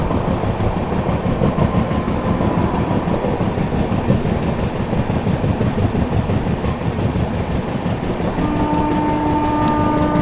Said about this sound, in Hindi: न्यू दिल्ली से चलकर रांची की ओर जाने वाली गरीब रथ एक्सप्रेस।